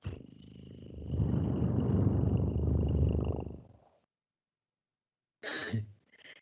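A low, rumbling growl made by a human voice imitating an elephant's call, sustained for a few seconds, then silence and a brief second rumble.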